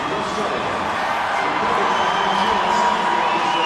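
A rugby union stadium crowd of more than 30,000 at a Test match in Wellington, New Zealand sends up a steady, dense roar of cheering and murmur that fills the whole stretch without a break.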